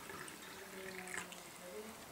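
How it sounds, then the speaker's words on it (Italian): Water poured into an ordinary drinking glass, a soft, continuous trickle and splash with faint dripping, fairly quiet and steady for a couple of seconds. "Prendiamo un classico bicchiere d'acqua. Versiamo l'acqua all'interno,"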